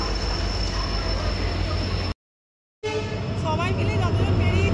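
Train pulling into a station platform, its steady rumble and rolling wheel noise filling the scene with a few faint squeals, with people talking in the background and a short gap midway.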